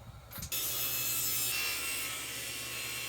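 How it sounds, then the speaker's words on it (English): Table saw ripping construction framing lumber to get a straight edge, a loud close whine that starts abruptly and stays steady as the blade cuts through the board. "run these through the table saw to get a nice straight edge on one side"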